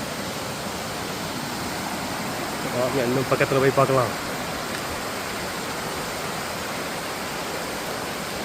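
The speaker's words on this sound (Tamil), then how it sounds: "அருவி நல்லா உயரமாக இருக்குது. நல்லா ஆர்ப்படிச்சு கொட்டுதுங்க." Chempanaruvi waterfall in Kerala pours down from a height, giving a steady, dense roar that fills the whole clip, with someone speaking briefly near the middle.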